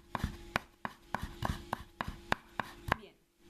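Sharp knife strikes chop two small garlic cloves on a board, about ten crisp evenly spaced thuds, close and distinct, ending in a brief quiet.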